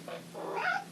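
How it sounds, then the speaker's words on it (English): A cat meows close by in a single drawn-out, wavering call, with no talking over it. "Cats, man."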